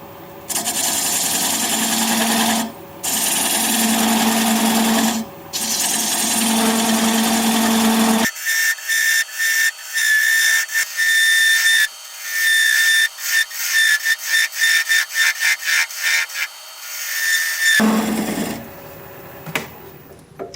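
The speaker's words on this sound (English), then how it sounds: "I'm going to use a 3/8 inch standard grind bowl gouge and commence to removing that tenon." A 3/8 inch standard-grind bowl gouge cuts away a tenon on a wood lathe, a steady rough rasping scrape that breaks into a quick run of short, choppy cuts midway, then settles back to continuous cutting.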